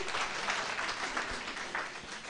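Audience at the close of a university seminar on ethical AI use clapping together, a dense steady round of applause heard at moderate distance without pause.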